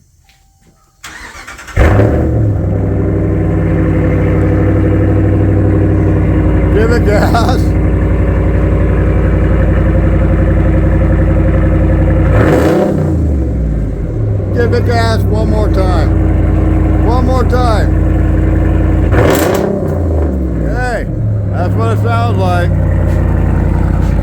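A 2016 Ram 1500 truck with its muffler deleted and resonators kept starts up, then settles into a loud, deep, throaty idle that rumbles steadily up close, with a few brief rises and occasional background voices.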